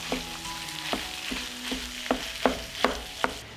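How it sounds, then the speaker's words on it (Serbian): Minced chicken fries with onion, sizzling steadily in a hot pan, with regular scraping knocks from stirring about every half second and no talking. "dodajem 400 g mlevenog pilećeg mesa i nastavljam da pržim"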